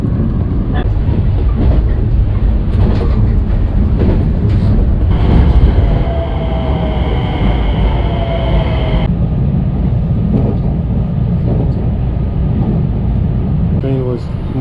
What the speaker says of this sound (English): So let's get on the Kawaii train.